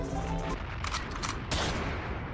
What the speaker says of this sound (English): drop a gunshot